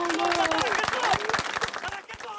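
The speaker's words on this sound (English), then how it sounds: "a spontaneous moment of applause" Spontaneous applause breaks out among mourners at a journalist's funeral in Lebanon, scattered claps close by mixed with crowd murmur and voices.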